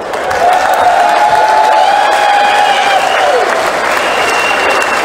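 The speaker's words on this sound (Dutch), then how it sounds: "Het applaus is voor dich." Loud, sustained applause from a large crowd at a shooting guild gathering, steady clapping filling the space with a faint whistle or cheer threaded through it.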